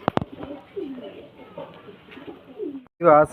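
Pigeons coo softly in low, rolling phrases at close range, with a brief burst of louder sound near the end.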